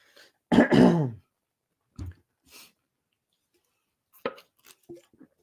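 A man with a nasal drip clears his throat loudly and close up in one harsh rasping burst, followed by a few fainter throat noises and small breathy sounds in otherwise quiet surroundings.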